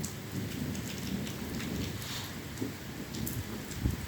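Steady rain hisses and patters close by, with a low rumble of thunder rolling underneath and a couple of heavier thumps near the end.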